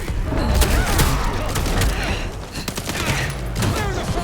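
Heavy gunfire in the Vampire: The Masquerade - Bloodlines 2 video game, a loud, continuous fusillade of overlapping shots and thuds with voices shouting underneath.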